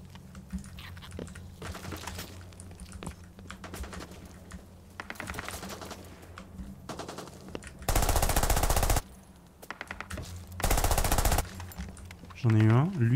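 Machine gun fire in the extraction shooter Project L33T comes in short bursts amid game clicks and keyboard tapping, with someone talking over parts of the action.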